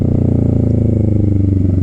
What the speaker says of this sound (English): This one has an aftermarket exhaust on it